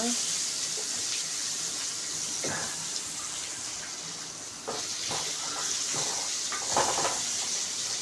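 A ladle stirs fennel and cumin seeds in a sizzling pan for vendhaya kuzhambu, giving scattered scraping clinks over a steady frying hiss, while a voice talks.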